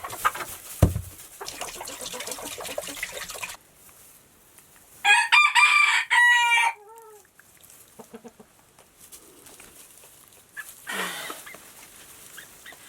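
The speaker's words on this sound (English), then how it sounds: "help me name my favorite chicken, which is this girl right here" Backyard hens clucking and a rooster crowing once, loud and close, in the middle; softer clucks and scattered bird and farmyard sounds fill the rest, with a dog faintly present.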